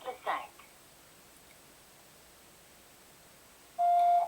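A single steady voicemail beep sounds near the end, clear and close, after a brief bit of recorded voice prompt and a quiet pause.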